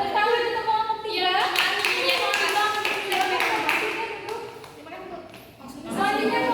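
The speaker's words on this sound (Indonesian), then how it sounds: "Tepuk tangan untuk kelompok tiga" Classroom applause for a student group: rhythmic clapping from students, mixed with voices talking and calling out over it, with a brief lull before the noise picks up again near the end.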